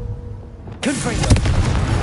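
A blasting spell explosion, Confringo, erupting as a sudden loud boom that rolls on into a sustained crackling, rumbling blast.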